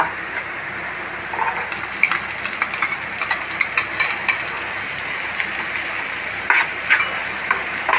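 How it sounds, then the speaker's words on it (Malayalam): Sliced onion drops into hot coconut oil already used for frying eggs. A bright sizzle bursts in after a quiet second and keeps going, close and loud, with repeated clicks and scrapes from stirring. "നമ്മൾ മുട്ട ഫ്രൈ ചെയ്ത വെളിച്ചെണ്ണയിൽ തന്നെ ഇട്ടാൽ മതി നന്നായിട്ട് ഫ്രൈ ആവണം"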